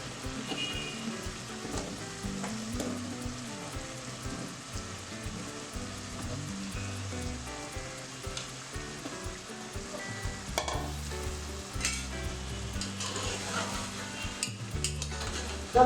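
Ash gourd frying in a pan with continuous crackling sizzle and repeated scraping stirs at close range, the scrapes coming in irregular bursts over the steady fry.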